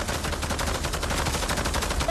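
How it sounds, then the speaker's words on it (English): Dense, continuous automatic gunfire from the Roblox game Prison Life, a steady rapid rattle of shots filling the short clip at close range with no pauses. "Oh, stop shooting me!"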